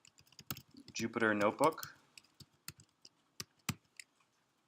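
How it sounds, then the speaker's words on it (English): Rapid keyboard typing with separate sharp key clicks, coming in short bursts around a man's speech, close and clear while setting up a Python 3 Jupyter Notebook session. "So now I can type"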